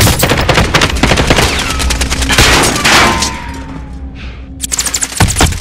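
Rapid bursts of automatic gunfire in Call of Duty: Modern Warfare crackle continuously, dense and loud, with a few heavier thumps near the end.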